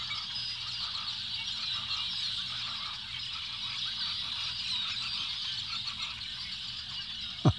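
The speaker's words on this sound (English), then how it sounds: "Every bird in the world is here." A dense chorus of many birds calling at once by the Rio Grande near Falcon Lake, Texas, continuous honking and chattering from a large flock, steady and moderately loud throughout.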